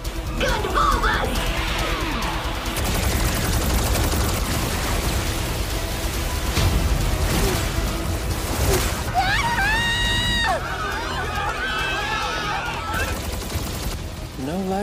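Rapid automatic gunfire from the gun bits of a mobile suit in the anime Mobile Suit Gundam: The Witch from Mercury, a dense continuous barrage with whooshing and electronic sweeps layered through the battle, loud and constant throughout.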